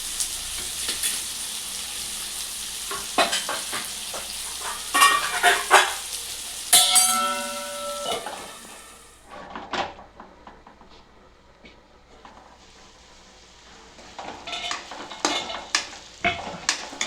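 Potatoes coated in gram flour frying in a pan, with a close sizzle and scraping stirs, spoon clinks against the pan, then quieter sizzling before stirring resumes.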